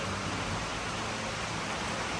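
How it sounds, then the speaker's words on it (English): Heavy rain pours steadily on a Sunday afternoon in the Appalachian Mountains, heard from a porch as a dense, even hiss that fills the whole stretch with no pauses or voices. "It's pouring the rain."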